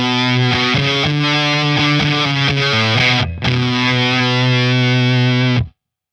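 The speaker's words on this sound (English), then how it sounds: "the fuzz effect goes sonically more in the direction of a saw or an electric razor" Electric guitar played through a fuzz distortion pedal, a buzzing, saturated riff of sustained notes and quick note changes with a short break near the middle, loud and close before stopping abruptly.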